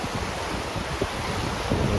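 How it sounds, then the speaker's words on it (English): Riley Creek in Denali National Park, Alaska, rushes in a steady, dense wash of flowing water, with some wind buffeting the microphone. "This is Riley Creek, and once again, it's really pretty."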